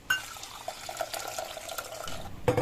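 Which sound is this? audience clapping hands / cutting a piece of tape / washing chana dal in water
washing chana dal in water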